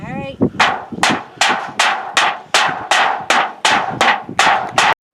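A hammer pounds on an old, large anvil in ten sharp, ringing metallic strikes at a steady pace, each loud and close with a short decay, after a brief voice at the start.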